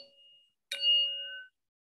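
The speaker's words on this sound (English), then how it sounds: "at the sound of the singing bell, I'm going to ask for everyone just to go ahead and take that moment" A singing bell is struck once during a moment of silence at an Asian American Heritage Month gathering, a bright metallic strike that rings with clear sustained tones for under a second before stopping, with a faint earlier tone fading beforehand.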